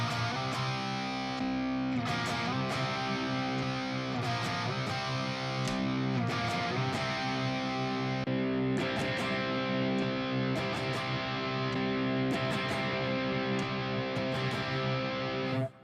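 Distorted electric guitar plays through an amp modeler with an Uber cabinet simulation, sustained chords and riffs ringing thick and saturated for about sixteen seconds before cutting off abruptly.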